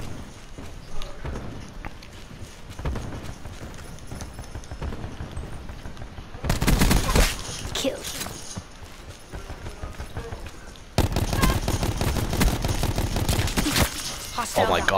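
Gun game match in a shooter video game: rapid automatic fire in sustained loud bursts with short pauses, mixed with footsteps and game noise while players talk over it.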